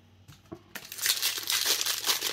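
A Magic: The Gathering War of the Spark booster pack being torn open, a couple of soft taps followed by sustained crinkling and rustling of the foil wrapper, close up.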